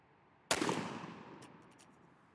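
A single close, sharp shotgun blast from a Winchester SXP 20 gauge firing a Fiocchi Golden Turkey load, with a sudden loud onset and a long decaying tail outdoors, and no talking.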